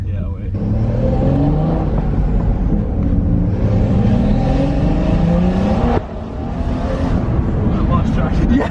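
A BMW M240i with a Stage 2+ tuned B58 engine pulls hard with a rising, loud engine roar through the gears, briefly dipping at a shift before climbing again, heard from inside the car as occupants talk over it.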